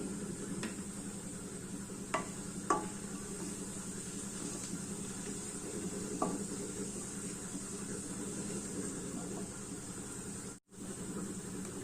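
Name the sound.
cumin, mustard seeds and chana dal sizzling in oil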